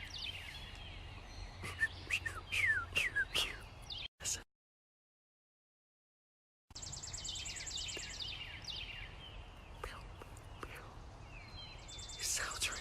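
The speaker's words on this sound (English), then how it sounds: "These are birds." Birds sing and chirp in a natural setting with quick rising and falling calls, faint and intermittent, broken by a silent gap before a denser chorus resumes.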